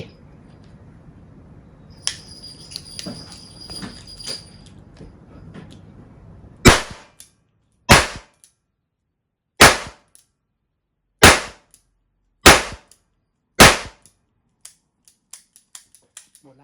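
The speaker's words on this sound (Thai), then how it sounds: "ทดสอบปืนลูกโม่หกนัดนะครับ สามารถยิงแบบซิงเกิลก็ได้นะครับ หรือดับเบิลก็ได้" EKOL blank-firing six-shot revolver fired one shot at a time, single and double action: six loud, sharp cracks spaced about one and a half seconds apart, following a quieter stretch of handling noise and faint tones.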